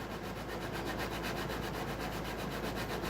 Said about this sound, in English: this is 220 grit, and I'm just going to hit the side of the fretboard where the frets are